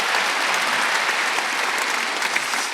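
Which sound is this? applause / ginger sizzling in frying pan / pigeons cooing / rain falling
applause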